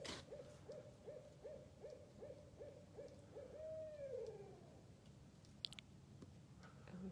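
A barred owl outside a nature center gives a series of about nine soft, evenly spaced hoots that end in a rising, drawn-out call, heard faintly against quiet background noise.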